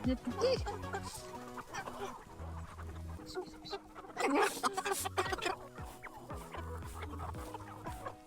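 Several chickens cluck and murmur close by on a small farm, with occasional louder squawks, while a person talks intermittently nearby.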